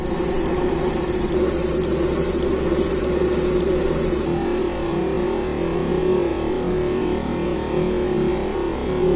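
A spray gun lays paint onto a custom paint job, blending the colour into blue with light overspray at the sides, heard as about seven short, close hissing bursts over a steady low background hum, with no talking.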